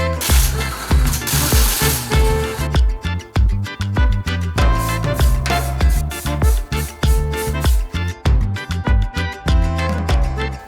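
Rust-Oleum semi-gloss black spray paint hissing from the can in a steady burst of about two and a half seconds, partly buried under loud rhythmic background music.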